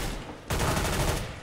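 Gunfire in the video game CS:GO, a short burst of rapid automatic shots starting abruptly after a brief quiet moment and rattling loudly for under a second.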